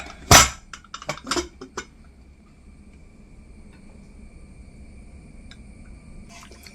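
A pressure cooker full of mutton for a Mangalore-style gravy is opened, giving a sharp metallic clank followed by a few lighter clinks and rattles, then quiet steady room hiss.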